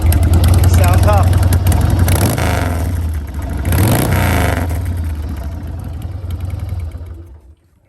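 A 1994 Harley-Davidson Sportster 1200 big bore idles loudly through drag pipes, gets two sharp throttle blips that bark and swell, then its rumble drops away and fades out.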